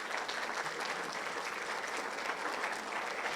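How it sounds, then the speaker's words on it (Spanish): A church congregation applauds together during a Spanish-language sermon, a steady, dense wash of many hands clapping at even loudness throughout, with no speech over it. "Denle un fuerte aplauso al Señor."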